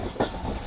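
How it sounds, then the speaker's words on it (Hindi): Train rumbling along the tracks on approach to Rohri Junction railway station, pulled by a GU40 locomotive, a steady low rolling noise with faint wheel clatter, heard from on board, with no talk. "9:30 बजे ट्रेन हमारी अप्रोच बना रही है रोड़ी जंक्शन रेलवे स्टेशन पर"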